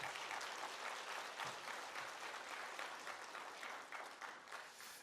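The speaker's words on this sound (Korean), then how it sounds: "여러분들의 박수 한번 쳐줍시다." A church congregation claps together for newly appointed deacons, dense even applause filling the room from start to finish and tapering slightly at the end, with no voices.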